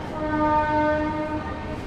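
A train horn sounds at a railway station near Vijayawada, a loud sustained tonal blast holding steady over rumbling rail noise for the whole short moment.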